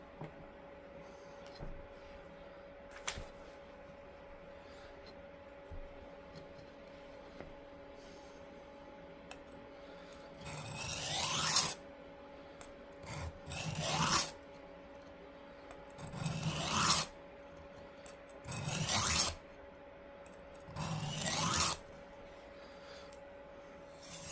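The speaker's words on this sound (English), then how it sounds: "So let's start out with the whetstone." A knife blade scrapes across a whetstone in five rhythmic, rasping strokes, each a couple of seconds long with short pauses between, after a quieter stretch with a faint steady hum.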